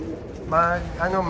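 A pigeon or dove coos twice in short, soft bursts over a low background murmur.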